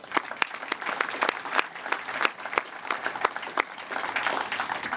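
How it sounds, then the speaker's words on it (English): An audience at the grand opening of a Newport Beach fire station gives staff and contractors a round of applause: steady, dense clapping from a sizable crowd that holds at an even level throughout. "Let's give them all a quick round of applause"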